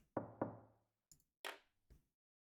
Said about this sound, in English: With renewed resolve, you knock on the door